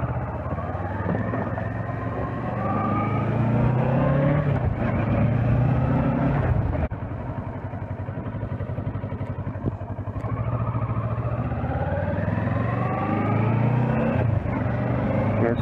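A Kawasaki Versys 650 motorcycle riding in third gear, its engine droning loud and close with rising and falling pitch as it accelerates and shifts, plus steady wind rush.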